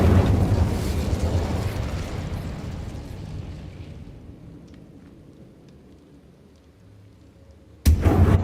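The Incendio fire spell is cast in the Hogwarts Legacy video game, a loud roaring burst of flame that rumbles and slowly fades over several seconds, followed by a sudden sharp hit near the end, with no talking.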